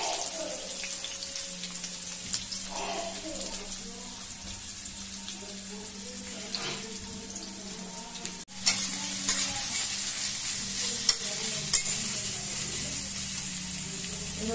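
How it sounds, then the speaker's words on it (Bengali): Onions fry in a pan with cinnamon and cloves for a chicken gizzard and liver dish, giving a continuous soft sizzle with occasional stirring scrapes and a sharp clank partway through. "প্রথমে আমি পেঁয়াজটা দিই, আগে পেঁয়াজটা দিয়ে একটু হালকা ভাজা হলে"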